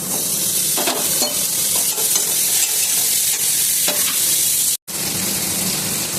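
Chopped tomato sizzling and frying in a pan for katla fish curry, a continuous hiss with scattered scraping stir strokes, close and loud, with a brief cut near the end.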